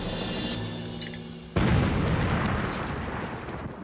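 A bomb explodes with a sudden loud boom that cuts off a quieter ambient scene. A broad rumbling roar follows and slowly fades over several seconds, with no speech.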